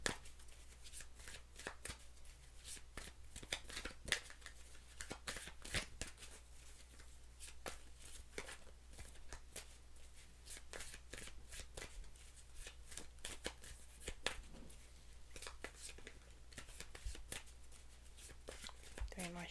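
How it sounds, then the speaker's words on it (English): Tarot cards being shuffled by hand in a steady run of crisp riffling slaps and flutters, close and fairly quiet over a low steady hum, with no voice over them. "Three more shuffles."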